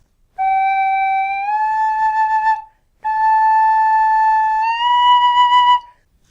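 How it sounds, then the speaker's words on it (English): A tin whistle, also called a penny whistle, plays two sustained notes, each sliding smoothly upward in pitch partway through. Clear and close, with a brief pause between the two phrases and no talking. "Basically it just means sliding your finger from one note to the other"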